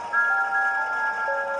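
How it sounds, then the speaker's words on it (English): A shrill two-tone whistle from an engine in a Thomas & Friends story, heard near a dump, sounds as one loud, steady blast lasting over a second. "suddenly they heard a shrill whistle"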